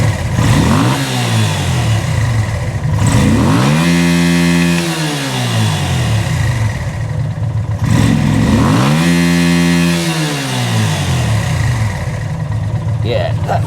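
A Yamaha VL250 bobber fitted with 48mm pod filters revs up and drops back twice from idle, each blip rising and falling quickly, loud and close, with someone talking over it.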